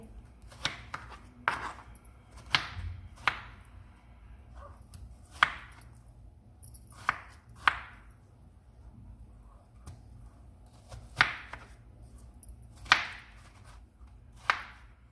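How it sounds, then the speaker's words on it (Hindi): A knife cuts watermelon into pieces on a board, with about a dozen sharp, separate chops at an uneven pace, close and clear against a quiet background. "अब हम इन्हें पीसेज में काट लेंगे।"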